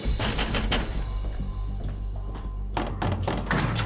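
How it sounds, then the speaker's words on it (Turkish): Heavy, rapid pounding on a door during a police raid on a house in a Turkish TV drama, a dense run of loud, close thumps and knocks. "ne vuruyorsun kapıyı dandan?"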